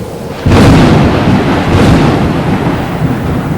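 Thunder cracks and rumbles through a heavy rainstorm, a loud close boom followed by a second rolling peal, with dense rain hissing steadily underneath.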